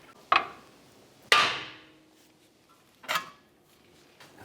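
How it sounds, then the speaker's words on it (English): Three sharp metallic hammer blows hit the steering knuckle of a 2011-2018 Volkswagen Jetta to free the lower ball joint, each ringing briefly. They are heard up close, spaced unevenly, with quiet gaps between them. "I'm going to go ahead and strike the knuckle to loosen the ball joint"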